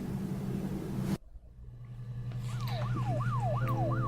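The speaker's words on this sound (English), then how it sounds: "I'm still not sure why there was a siren," A wailing electronic siren in the Her Story video game, its sweeping tone rising and falling steadily over a low engine-like hum after an abrupt cut from louder noise.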